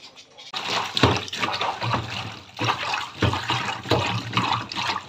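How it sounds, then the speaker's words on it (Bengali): Coriander leaves swished and rinsed by hand in a basin of water, irregular sloshing and splashing pulses, close and fairly loud, with no talking. "এখন ভালো করে এটা ধুয়ে নিলেই পয়লা দিয়ে দিব।"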